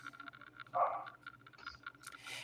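A single muffled dog bark from a distance, faint and brief, with low background noise around it.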